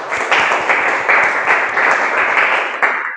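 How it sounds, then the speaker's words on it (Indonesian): Classroom applause for Michelle: a burst of clapping from a group of students, steady and fairly loud for about three seconds, then tapering off. "berikan aplaus untuk Michelle"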